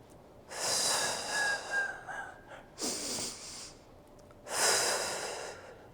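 Deep breaths taken during a home mat Pilates class with weights and a Pilates ball: three long, audible breathy exhalations close to the mic, separated by short quieter pauses, with no talking.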